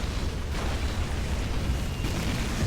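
A dense, sustained explosion roar fills the scene as a unit is destroyed in the real-time strategy game Rise of the Reds, loud and even throughout with no pauses.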